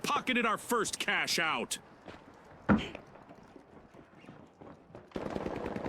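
Gunfire rattles in The Finals, with several sharp bursts between stretches of excited talking, then a loud single crack and a denser patch of shooting near the end.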